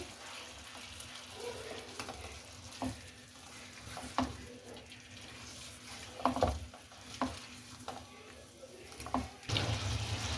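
A spoon stirs masala and Kashmiri red chilli into chicken in a pan: a low continuous sizzle with scattered scraping knocks against the pan, fairly quiet, and a faint voice now and then.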